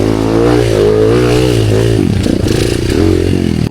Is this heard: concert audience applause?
no